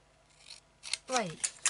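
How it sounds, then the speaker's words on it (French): Scissors cut small tabs in a few quick, close snips, with a short burst of voice between them. "On coupe ici, on coupe là, on coupe là."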